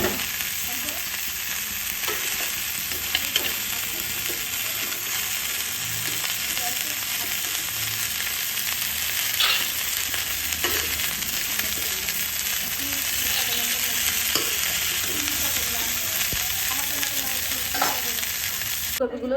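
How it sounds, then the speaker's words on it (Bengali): Cauliflower pieces frying in oil in a pan: a loud, continuous close-up sizzle with scattered clicks and scrapes from stirring, steady for the whole stretch without speech. "ফুলকপিটা হালকা ভাজা ভাজা হয়ে আসছে"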